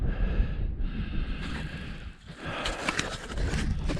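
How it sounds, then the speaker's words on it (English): Strong wind blows across a hilltop at a paragliding site, buffeting the microphone in loud rumbling gusts that surge, briefly ease, then roar back, with no voices. "it's that windy, the wind's blowing up"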